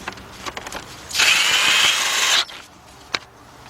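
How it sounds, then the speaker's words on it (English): A cordless drill tightens bolts on a BMW 528i alternator, giving one steady whirring burst of about a second and a half between quiet clicks and handling noises. "Now we're going to take our cordless drill, hook it up, tighten them bolts up"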